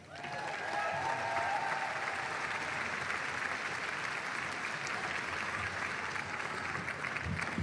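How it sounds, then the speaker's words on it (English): Sustained applause and cheering from the crowd at the 2025 ECMA awards event, a broad steady roar of clapping that swells in and holds for several seconds, heard from a moderate distance. "Another round of applause for Kelly Loader."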